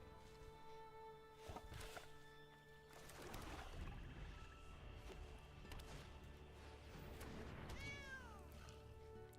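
A house cat meows several times at moderate distance, the calls rising and falling, amid quiet room noise and light shuffling while cards are handled.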